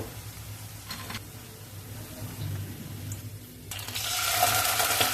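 Chicken pieces fry in hot oil for chilli chicken, a soft bubbling sizzle that swells into a louder, brighter crackle toward the end, with clinks of a utensil in the pan.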